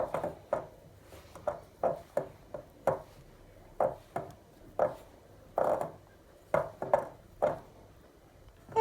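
Bare hands knead soft cookie dough for baby biscuits, working butter in until it melts: a string of about fifteen close, soft, damp slaps and thuds at an uneven, steady pace, with no talking.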